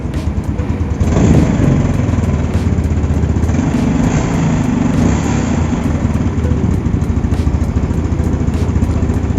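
An old Yamaha Mio Sporty scooter fitted with a PE24 carburetor revs up close by, its engine rising and holding a steady, loud drone with slight throttle swells and a regular ticking pulse, with no talking over it.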